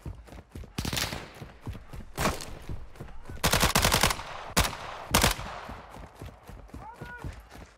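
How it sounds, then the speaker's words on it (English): Call of Duty Modern Warfare 2 DMZ gunfire: loud, irregular bursts and single shots rattle throughout, some close and heavy, with a voice speaking between the shots. "Taking effective fire!"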